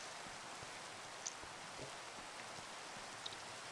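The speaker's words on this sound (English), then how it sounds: "Oh, now it's raining, huh?" Rain falls in the Minecraft video game as a steady, even hiss with no break, and a few faint drips stand out near the start and the end.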